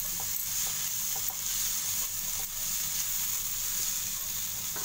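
Garam masala and red chili powder frying in a pan, a constant close sizzle with faint stirring scrapes and light taps, no voices.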